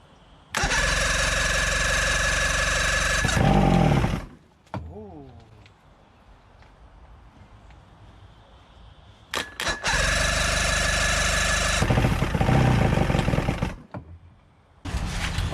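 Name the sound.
old outboard boat motor running roughly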